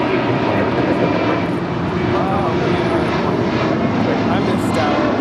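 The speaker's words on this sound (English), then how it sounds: "the 767 now rolling down at 25 right" A Boeing 767 heavy jet rolls down the runway at LAX on departure, a loud, steady engine roar filling the whole stretch, with faint radio chatter beneath.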